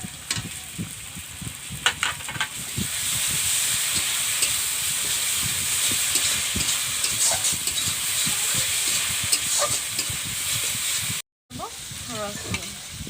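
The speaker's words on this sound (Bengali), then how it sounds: "এখন এই সমস্ত মশলাগুলো দিয়ে বন্ধুরা একটু ভালোভাবে ভেজে নেব, যাতে কাঁচা গন্ধটা চলে যায়।" Spice paste of chili, garlic and ginger frying in oil for a village-style chicken curry, a steady close sizzle with occasional stirring scrapes throughout, briefly cut out near the end.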